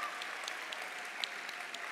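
Steady applause from a crowd, dense continuous clapping with a few sharper claps standing out, no voices.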